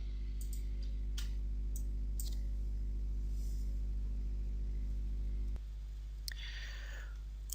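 Faint, sparse clicks of a computer mouse, several isolated taps spaced irregularly over a steady low electrical hum, with no talking.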